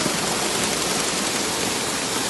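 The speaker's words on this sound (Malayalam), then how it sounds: "നല്ല സൗണ്ടാണ് വെള്ളം വീഴുമ്പോൾ" Falling water at Quranic Park at night makes a steady, loud, broadband rush, a continuous cascade with no break or voices over it.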